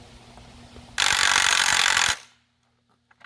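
A Milwaukee M18 Fuel high-torque impact wrench tightens 5/8 nuts in one loud, dense, rattling burst of about a second. Quiet follows, with a few faint clicks.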